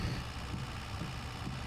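Tractor engine in a farming video game, a steady low idling drone with faint vibration, continuous and close with no talking.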